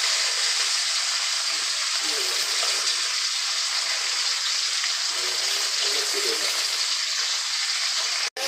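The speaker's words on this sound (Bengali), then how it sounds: "মাছ ভাজার সময় চুলার আঁচটা মিডিয়াম আঁচে দিয়ে দেবেন, তা না হলে তেল ছুটে গায়ে পড়বে মাছ ভাজতে গেলে" Pieces of Bronze Featherback (Folli) fish frying in oil, a loud, constant close hiss with faint crackles and a soft clatter near the end, no speech.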